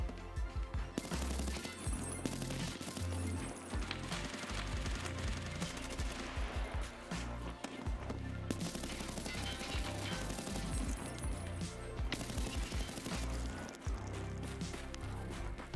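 An RPD machine gun firing in Escape from Tarkov, rapid dense volleys of shots, near and fairly faint, with brief pauses between long bursts.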